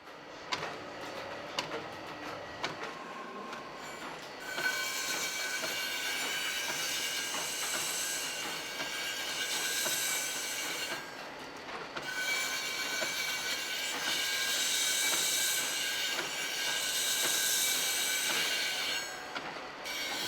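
A belt grinder works Edo Kiriko glass, giving a continuous harsh, hissing grind with high squealing tones that swell and fade as the glass is pressed against the belt, steady and fairly close, with no talking.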